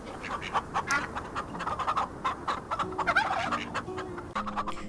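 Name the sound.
turkeys gobbling in the video game Farm Together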